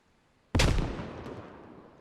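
A single sharp, loud grenade explosion in a tactical military video game bursts from near silence and then rumbles away in a long decaying tail.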